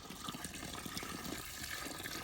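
Water pouring from a hose into a snake's burrow outdoors, a soft steady gush and splash, faint and continuous.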